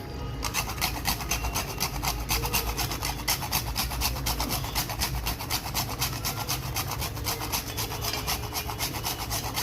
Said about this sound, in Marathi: सगळ्यात शेवटी आणि जायफळ किसून घालायचा हा बघा जायफळ